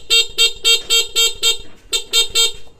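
Horn of a restored Pantra concept vehicle sounds in quick, evenly spaced short honks, about nine in a row with one brief gap, loud and close.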